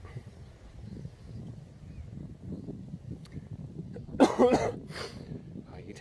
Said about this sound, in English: I start to cough.